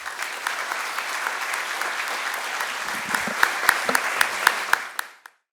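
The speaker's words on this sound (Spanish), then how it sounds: "para quien pido un fuerte aplauso" An audience at the opening session of a governance program applauds a speaker with loud, dense clapping that builds toward the end, where a few sharp claps ring out before it cuts off abruptly.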